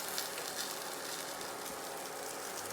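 Vegetables sauté in a pan for a cream of vegetable soup, giving a steady, even sizzle throughout at moderate volume, with no voices.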